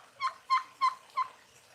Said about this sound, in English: Got one of the turkeys behind you.